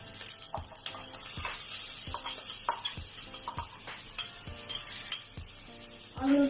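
Chopped onion hits a hot pan for ginisang ampalaya with bitter melon and egg, sizzling steadily while a utensil stirs and scrapes in repeated sharp clicks and taps, close and fairly loud.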